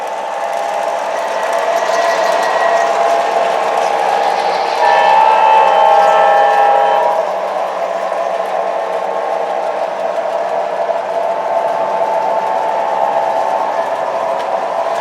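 MTH model trains, including Rail King diesels on one shared DCC loop with a DCS switch fitted, hum and rumble steadily, swelling briefly louder midway as one train speeds up to mainline pace while another crawls in at yard speed.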